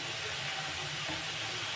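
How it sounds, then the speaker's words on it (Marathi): Potato fries drop into hot oil in a kadai for a second frying, giving a steady, dense, close hiss of bubbling oil with no breaks and no talk. "आता हे परत फ्राय करायला कढईत टाकलेलं आहे"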